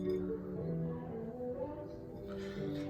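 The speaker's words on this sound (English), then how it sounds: "Yes, the music is coming from next door." Music drifting over from a neighbouring house, heard indoors in a kitchen as a steady muffled wash of tones and low beat, faint and distant, continuing without pause while bacon cooks.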